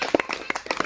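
Scattered hand claps from a small village crowd gathered around a street magician, several sharp uneven claps over about a second with voices mixed in.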